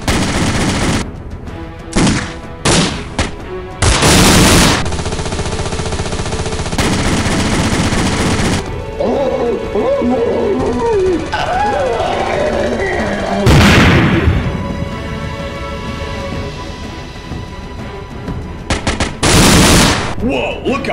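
Rapid bursts of gunfire and booms from a Halo video game, loud and repeated in clusters, with excited voices talking over the shooting.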